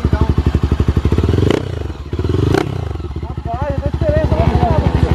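A Honda XRE 340cc motorcycle engine runs close and loud with a pulsing, throbbing rhythm, rising and falling in revs with a couple of sharp clattering bursts, while voices talk over it.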